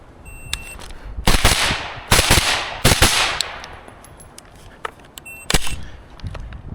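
Gunshots at an outdoor shooting range during drills on a spring day, several sharp loud reports in uneven succession, some in quick pairs, with quiet gaps and faint ringing between them.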